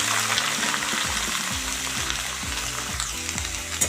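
Chopped spinach and vegetables hit hot oil in a wok seasoned with five-spice and a green chilli, giving a loud, steady sizzle with repeated scraping stirs alongside, no voices.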